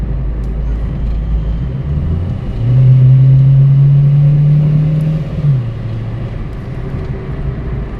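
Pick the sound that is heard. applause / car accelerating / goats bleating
car accelerating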